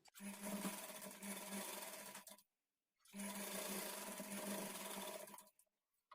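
A sewing machine stitches a lined blouse in two long, steady runs of fast, even whirring and needle clatter, close by, separated by a brief silent pause.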